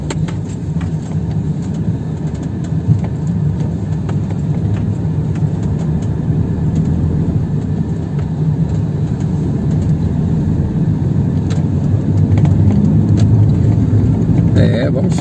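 A car engine pulls steadily uphill through the streets of Santo André, with a continuous low drone and road rumble that holds for the whole stretch and swells slightly near the end while someone talks over it.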